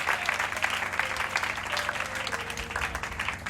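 A church congregation at a Sunday worship service applauds steadily, a dense wash of clapping that holds for several seconds, with faint cheering mixed in.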